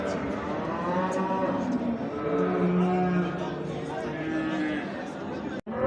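Cattle mooing repeatedly at a busy livestock market in Elbistan, long low calls rising over a steady crowd murmur of people talking and bargaining nearby.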